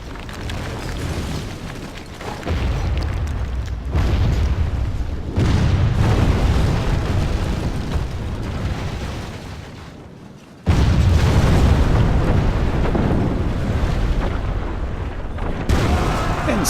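Siege artillery pounds castle walls in the Medieval II: Total War Kingdoms strategy game, a run of heavy booming impacts and rumbling blasts, loud and close, with a sudden stronger crash near the end.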